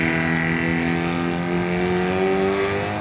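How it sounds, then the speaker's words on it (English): Loud Mazda RX7 rotary-engine race cars at a drag strip, a raspy, buzzing engine roar held steady at high revs for a few seconds, close and continuous with no talk over it. "Loud rotaries. A couple of loud rotaries out here today."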